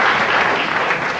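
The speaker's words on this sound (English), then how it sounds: "I actually got applause for an introduction." An audience in Texas claps enthusiastically after Congressman Ron Paul is introduced, a thick, steady burst of applause filling the whole short moment.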